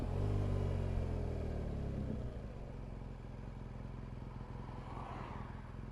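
A motorcycle running on Metzeler Roadtec 01 tyres slows from a steady engine drone as it pulls off the road into a lay-by, the sound dropping after a couple of seconds to a lower idling rumble.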